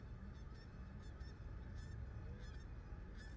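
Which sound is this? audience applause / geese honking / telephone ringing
geese honking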